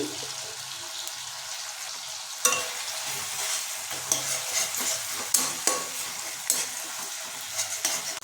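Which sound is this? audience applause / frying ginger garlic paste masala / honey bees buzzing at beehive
frying ginger garlic paste masala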